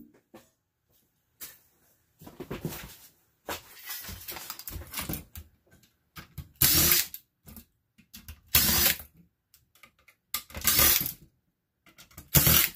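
A power screwdriver backs six screws out of a computer board in short buzzing bursts separated by silences, close and sharp, with faint rattles and clicks of parts between runs.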